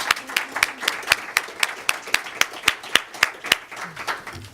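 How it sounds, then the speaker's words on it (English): A small audience at a teaching panel Q&A claps in sparse, distinct hand claps, a loose rhythm of sharp individual slaps close by rather than a full roar, with no talk over them. "give a round of applause to our amazing panelists"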